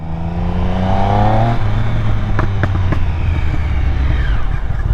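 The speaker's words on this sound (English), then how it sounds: "The pops in first gear is actually insane." Motorcycle engine in first gear, one of the top beginner bikes of 2023, revs loudly up close, then drops off the throttle into a burst of sharp exhaust pops and crackles.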